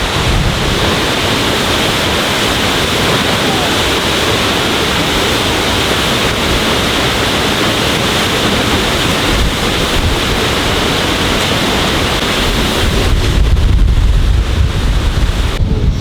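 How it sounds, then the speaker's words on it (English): Seljalandsfoss waterfall in Iceland roars as a loud, steady rush of falling water mixed with wind buffeting the microphone, continuous and close throughout with no voices. "At this waterfall, you can actually walk completely behind it, which we're about to do."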